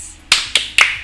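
Three crisp, evenly spaced hand claps from a school character-clapping chant during a junior high orientation, near and distinct with quiet gaps between them and no voices.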